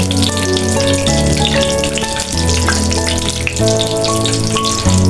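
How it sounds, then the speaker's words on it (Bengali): Bay leaves and black cumin seeds frying in hot oil, a broad sizzling hiss running steadily underneath loud sustained music that stays prominent throughout. "দিলাম তেল, এখন দিয়ে দেবো তেজপাতা, কয়েকটা কালো জিরে, নাড়াচাড়া করে নেব।"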